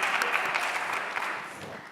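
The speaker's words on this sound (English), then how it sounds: "there's one person clapping from the audience." A single audience member claps in a lecture hall, a quick run of fairly faint, echoing claps with no other sound.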